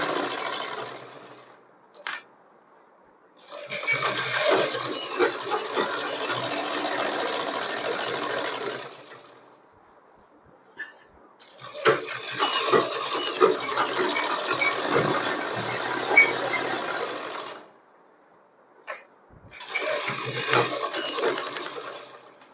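A sewing machine stitches a belt and elastic onto the waist of Afghani pants in three long runs of rapid, even whirring. Short quiet pauses and small clicks fall between the runs, and no voice is heard.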